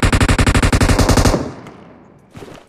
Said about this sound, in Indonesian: Aku mau nembak.